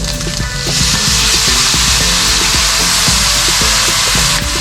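Soy sauce hitting pancit with fishcake frying in a hot pan, a loud, dense sizzle that rises quickly and holds as a steady, close roar of hissing oil, with occasional scrapes and no voices.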